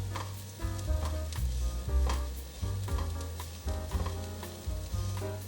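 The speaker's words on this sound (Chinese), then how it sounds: "继续翻炒。" Bean crumbs stir-fried in a pan, with a steady sizzle and repeated scraping strokes of a spatula against the metal, close and continuous.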